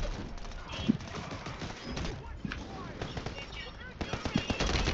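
Gunfire crackles in Warzone 3 Rebirth Lockdown, with rapid, faint bursts of automatic shots and scattered single cracks in a quiet, busy game soundscape.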